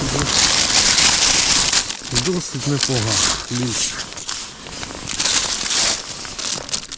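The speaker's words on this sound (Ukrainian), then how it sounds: "Так, я потихеньку в пакет складаю." Plastic bag crinkling close by as freshly caught crucian carp are packed on a winter ice-fishing outing, steady rustling and crackling with someone talking over it.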